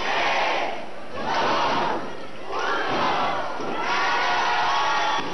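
Electoral delegates at an electoral tribunal cheer loudly as a crowd, repeated surging waves of shouting and chanting that rise and fall in rhythmic bursts.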